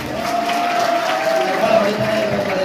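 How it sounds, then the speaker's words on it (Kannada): Audience applause at a college prize distribution ceremony at KLESNC: steady, dense clapping mixed with crowd noise that holds at an even level for the whole moment, with a faint sustained tone running underneath. "ಬಡೀರಪ್ಪ ಚಪ್ಪಾಳೆ"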